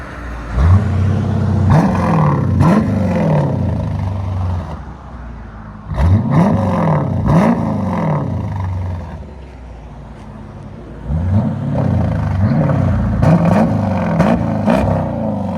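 A 2019 Dodge Durango R/T with a 5.7-liter HEMI V8 and Flowmaster Outlaw exhaust revs loud and close in three bursts of rising and falling roars, with a deep idle rumble between them.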